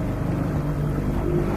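A motorboat engine drones low and steady on the Norilskaya River in fog and drizzle, with wind rushing past; no speech.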